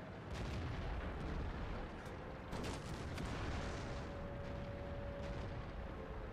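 A tank cannon fires in World of Tanks, a heavy low boom rising from a constant rumbling engine and battle background, followed by a faint high whine.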